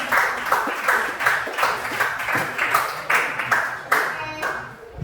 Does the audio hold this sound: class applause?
yes